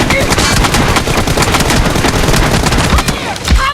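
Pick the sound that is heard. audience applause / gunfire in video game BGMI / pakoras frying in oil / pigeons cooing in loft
gunfire in video game BGMI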